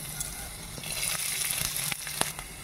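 Chopped ginger and garlic with carrots, cauliflower, onion and chilli frying in white oil in a pan, a steady soft sizzle with occasional clicks and stirring knocks, close and fairly quiet.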